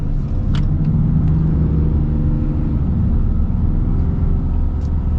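A 2022 Ram 3500 High Output Cummins diesel pickup accelerates, its deep engine rumble loud and steady throughout, with no talking.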